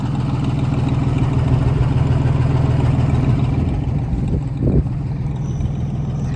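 An older Oliver tractor with six forward speeds and a mechanical lift idles nearby with a steady, rumbling low drone and no talk, rising briefly for a moment near the end.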